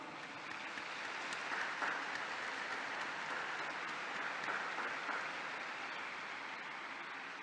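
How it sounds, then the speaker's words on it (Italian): A large outdoor crowd in Saint Peter's Square applauds newly beatified women, a broad, even roar of distant clapping that holds steady from start to finish. "Un applauso alle nuove beate."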